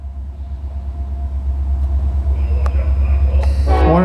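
A Norfolk Southern southbound intermodal train in Marion, Ohio, passes with a heavy low rumble that grows steadily louder, with a sharp horn-like tone near the end; brief faint chatter sits beneath it.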